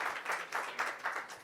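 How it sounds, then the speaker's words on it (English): Audience applause for an investor panel at a Davos innovation week event, steady clapping from a crowd swelling in repeated waves over a second and a half, with no talking. "big applause for our investor panel."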